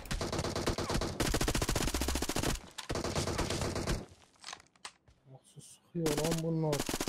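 Rapid gunfire from the mobile battle-royale game PUBG Mobile on the Livik map, loud bursts of automatic fire separated by short pauses, with quieter in-game sounds in the gaps.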